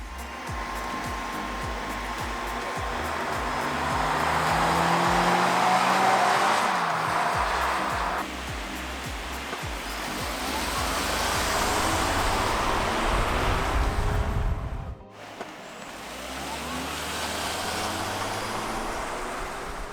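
A Toyota Corolla Hybrid and a non-hybrid Corolla drive on a closed course, with engine and tire noise swelling and fading as the cars pass and accelerate, a whining hum with a brief dropout mid-run.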